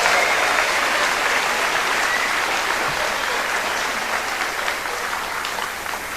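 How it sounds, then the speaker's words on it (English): A school promotion ceremony audience applauds teachers, staff and coaches with steady, dense clapping that fills the hall at an even level throughout. "I would like us all to give a round of applause to all the amazing teachers,"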